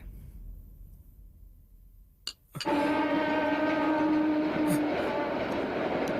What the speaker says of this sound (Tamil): இங்க இருந்து ட்ரெயின் சத்தம் கேக்குது